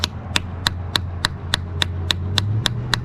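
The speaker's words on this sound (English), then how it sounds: "before taking out any of these plugs, I'm going to give them a good tap just to break loose any rust" Metal hammer taps striking the drain plugs on a Kubota KX033-4 mini excavator final drive, about eleven sharp, evenly spaced knocks over a steady low engine hum, close and alone.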